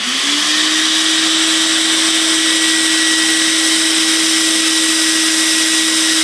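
A loud, steady motor whine with a constant high pitch, running continuously up close like a vacuum cleaner, with no voices.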